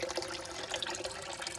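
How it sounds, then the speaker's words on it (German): Steady gurgling and trickling water from a small garden pond filter pumping water up through sand and fleece filter material, a continuous close, soft splashing flow. "Unten wird das Wasser reingepumpt durch das Filtermaterial und oben kommt es wieder sauber raus"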